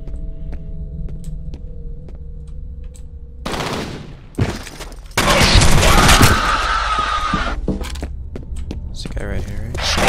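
Gunfire erupts in the horror shooter F.E.A.R., loud bursts of automatic weapon fire with a sharp crack midway, arriving after a stretch of low droning hum with faint ticking pulses.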